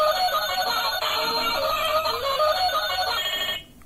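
A child's toy telephone plays a bright electronic ringtone melody, steady and fairly loud, cutting off abruptly just before the end.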